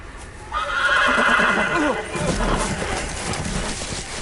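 Horse neighing and whinnying in a Game of Thrones video game, a loud drawn-out whinny with hoof clip-clop and game ambience, mixed with speech-like sound.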